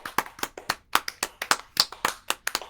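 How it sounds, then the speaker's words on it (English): A crisp soundboard clapping effect, about sixteen sharp, close hand claps in a quick, slightly uneven rhythm, standing alone with no talk. "clap, clap, clap."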